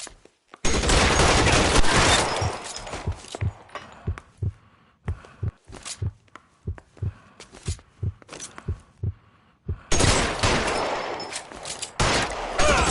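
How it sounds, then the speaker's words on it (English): Gunfire in a police shootout scene from the film Reefer Madness. Dense bursts of shots open and close it, and a string of separate sharp reports sits in between, loud and close with no talk. "Shots fired."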